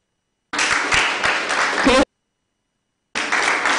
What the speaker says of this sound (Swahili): Makofi kwa watu.